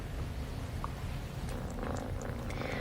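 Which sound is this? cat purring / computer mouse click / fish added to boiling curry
cat purring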